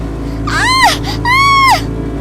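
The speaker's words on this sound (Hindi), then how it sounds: "उसके पल्लू में आग लग जाती है और वो जोर जोर से चिल्लाने लगती है।" A cartoon woman screams as her sari catches fire, two long loud rising-and-falling shrieks in quick succession over a low steady hum.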